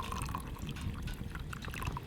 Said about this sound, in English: now I'll put some cold water in it. And this cold water should shock the coffee grounds